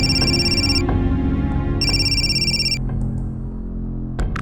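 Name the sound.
phone ringtone ringing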